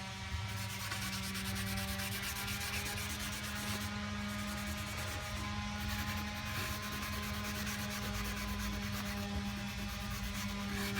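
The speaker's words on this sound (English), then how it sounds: "I prefer the red pad over the sandpaper." A red abrasive pad scrubs back and forth across a bleach-stained wood surface in a mountain home, a steady close rasping that never pauses, with a faint hum underneath and no voices.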